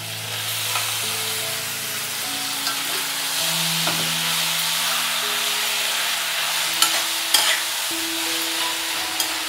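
Tomato, onion, drumstick and small potatoes sautéing in a pan, a steady close sizzle with occasional stirring scrapes, while faint tonal sounds hum in the background.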